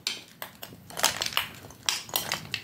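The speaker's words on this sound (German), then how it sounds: "Als erstes müssen wir das einmal so richtig klingen umrühren." Spoon clanking and scraping against a bowl while stirring a fruit bowl with Müllermilch, a quick series of sharp bright clinks and scrapes, close and fairly loud, no talking.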